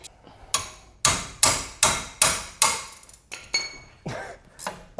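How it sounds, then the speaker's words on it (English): Sharp metal hammer blows ring out on a Daihatsu Copen's wheel bearing, about a dozen close, loud strikes in an uneven rhythm, each with a short metallic decay. "You can use your screwdrivers and spanners as pry bars and hitting tools"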